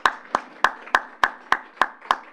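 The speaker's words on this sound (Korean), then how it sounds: "우리 박수로 하나님께 영광 올려드립니다." Congregation at a Sunday church service clapping in praise of God, eight sharp, evenly spaced claps in a steady rhythm, fairly close and moderately loud with no voices over them.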